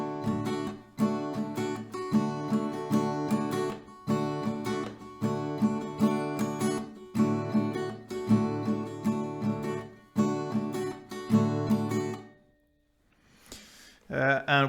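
Acoustic guitar strummed at tempo in a down-down-up pattern for a song, with steady rhythmic chords played close for about twelve seconds, then a short pause and a brief voice.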